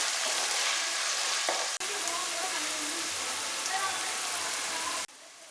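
About a quarter kilo of small shallots sautéing in a pan with a loud steady sizzle close by, briefly interrupted by short cuts.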